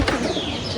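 Pigeons coo on a rooftop loft, a soft, steady, fairly close murmur of calls running without pause and alone, with no voices.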